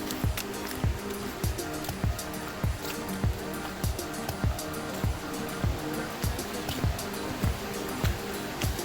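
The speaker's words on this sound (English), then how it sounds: "So you can hear the water at this point." Water at Falling Edge waterfall, heard from the approach path as a steady, broad rushing roar. A regular series of soft thumps, like footsteps on steps, runs through it.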